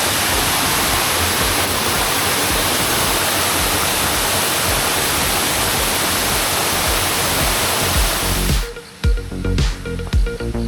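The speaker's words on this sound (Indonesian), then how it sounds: "Sana ada air terjun, airnya turun ke bawah." Steady roar of a waterfall beside a mountain hiking trail up to Puncak 29 via Rahtawu, Kudus, a dense continuous rush that cuts off near the end, leaving a few brief knocks and handling sounds.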